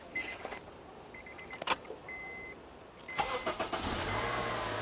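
A 2005 Honda Accord with a newly replaced starter cranks and fires up, catching with a sharp burst and settling into a steady idle hum, heard nearby outdoors after a few faint clicks and small handling noises.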